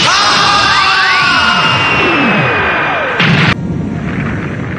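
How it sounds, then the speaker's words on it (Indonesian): A large laser blast fires in a Dragon Ball anime battle, a loud sustained beam with falling and sweeping tones that ends in a sharp burst, then fades to a lower rumble. "Dia segera menembakkan laser besar itu ke arah Baby untuk berniat mengakhiri pertarungan ini."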